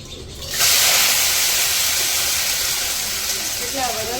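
Oil sizzles as spices are tempered for a potato and cabbage curry; a loud, steady hiss bursts in abruptly after a quiet moment and holds evenly to the end.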